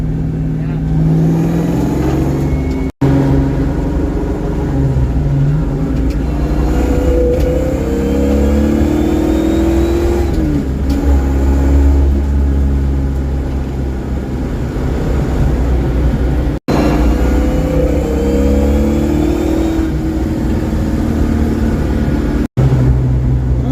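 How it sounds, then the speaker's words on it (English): A car with newly lowered springs and struts, new wheel bearings and no rear sway bar drives on the road with a steady engine drone and road rumble throughout. Occasional rises in pitch mark acceleration, heard from inside the cabin. "we're driving it for the first time in 3 weeks or more"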